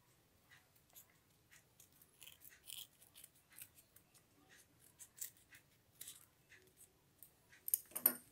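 Scissors snip through paper along a curved line while a craft flower is cut out, giving faint, close, irregular clicks and crisp cuts with quiet gaps between them.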